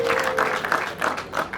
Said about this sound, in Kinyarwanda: Niyo mpamvu bakomye amashyi menshi ku bwabo mwicaranye aho.